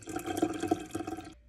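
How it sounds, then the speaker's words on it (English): Adeni tea is poured into a teapot in a soft, steady liquid stream with faint gurgles, quiet and close, lasting just over a second before stopping. "we're going to pour this in the teapot and get it ready to serve"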